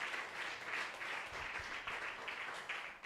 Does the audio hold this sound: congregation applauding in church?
yes